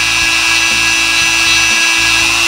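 A rotary tool polishes a handgun's feed ramp with polishing compound, giving a loud, steady high-pitched motor whine with a low rhythmic pulsing underneath, close and uninterrupted.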